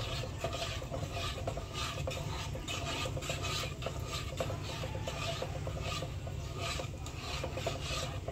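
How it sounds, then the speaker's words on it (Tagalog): Spaghetti sauce is stirred in a pan with a steady scraping, rasping rhythm, faint and close, with no voices. "Akin po ulit hahaluin."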